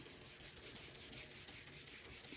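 A red Scotch-Brite pad scrubs the bodywork of a smashed 1966 Ford Mustang under repair, making a steady, even abrasive rubbing hiss that continues without a break, close and fairly quiet.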